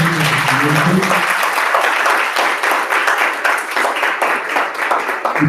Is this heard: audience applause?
yes